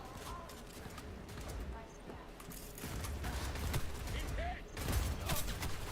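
Machine gun fire in Cyberpunk 2077, rapid bursts of gunshots rattling through the scene, loudest toward the end, under a voice talking.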